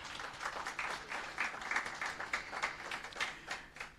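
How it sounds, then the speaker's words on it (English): An audience at a heritage competition awards ceremony applauds with steady, continuous clapping, faint and distant in a hall, holding an even texture throughout with no voices over it. "you all deserve a round of applause"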